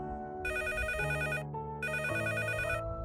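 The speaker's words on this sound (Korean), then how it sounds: "전화 벨소리에 엄마가 받으셨고" A telephone rings twice in bright, warbling electronic bursts with a short pause between them, loud and alone.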